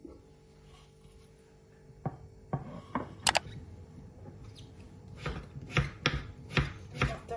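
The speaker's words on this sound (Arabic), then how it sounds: "بدنا نقطع انا وياكم اللقطين" A knife slices through raw pumpkin on a cutting board, giving a series of crisp, close chops, sparse at first and then quicker and heavier toward the end, with no one speaking.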